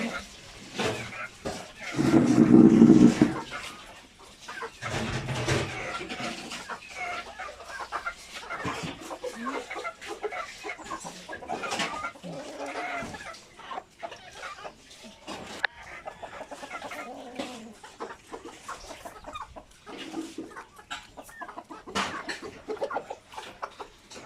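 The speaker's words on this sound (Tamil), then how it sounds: "இன்னொரு இடத்துல போடும் சேவல் நம்ம சேவல் கிடையாது" A rooster crows once, loud and close, then hens cluck amid outdoor chatter as people talk nearby.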